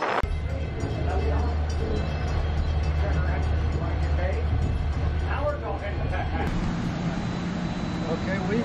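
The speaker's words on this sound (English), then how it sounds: "As we start slowing down, we come to the end of the line near Topton, North Carolina." A Great Smoky Mountains Railroad train slows near the end of the line by Topton, North Carolina, giving a continuous low rumble of rolling cars with faint squeaks and clatter, fairly quiet and steady.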